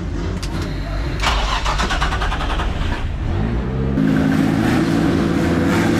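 A drift car's engine is tested on a circuit, with loud, close revving that rises and falls over a rough mechanical drone, then settles into a steadier, higher-pitched run.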